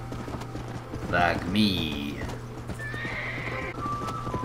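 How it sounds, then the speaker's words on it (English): A horse gallops with rhythmic hoofbeats and gives a loud whinny in the western video game Red Dead Redemption, while someone talks over the action. "Plus, man, this horse is fast."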